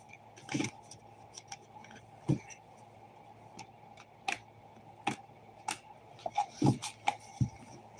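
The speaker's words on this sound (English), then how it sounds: "let's shuffle the cards a little bit." Scattered soft clicks and snaps of tarot cards being shuffled, irregular short flicks and riffles close by in a quiet room, no talking.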